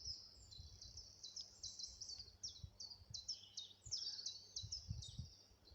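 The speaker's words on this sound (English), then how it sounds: "And the usual warblers are here, the chiffchaff and willow warbler." Chiffchaff and willow warbler singing in woodland with young birch, a steady run of bright, high, repeated song phrases from birds at moderate distance, with low rumbling background noise throughout.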